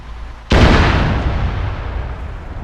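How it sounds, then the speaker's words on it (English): A delayed explosion in ARMA 3 bursts up loud and sudden as a roadside ambush is sprung on passing vehicles, then trails into a long rumbling decay. "Have that delayed explosion."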